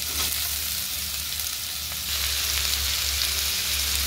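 Potatoes sizzle in hot oil with a cumin tempering, a dense, continuous frying hiss with a steady low hum beneath it and no voices.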